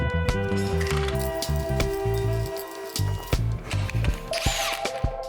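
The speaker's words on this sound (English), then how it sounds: "you spin one lug in first, and that will mount your wheel in place" Lug nuts are spun onto the wheel of a 2011-2017 Honda Accord EX during a rear brake pad job, a close, busy run of rattling metal clicks and buzzing tool-like spinning with short pauses between bursts.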